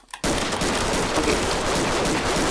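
Rapid, loud automatic gunfire from a Roblox shooting game, a dense unbroken burst that starts abruptly and carries on for over two seconds with no talking.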